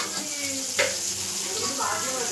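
Vadagam frying in hot oil as tempering for greens gives a continuous close crackling sizzle, with one brief metallic clink from the pan partway through and a voice talking faintly beneath.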